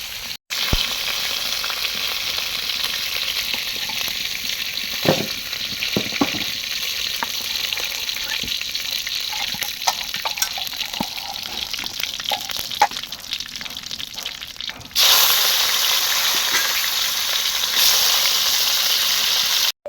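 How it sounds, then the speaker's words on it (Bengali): Broiler chicken pieces fry with tomato in a pan, a steady dense sizzle throughout with scattered pops and stirring scrapes, growing louder and brighter near the end. "তো এখানে মা সবগুলো গোস্ত লাল লাল করে ভেজে নিছে।"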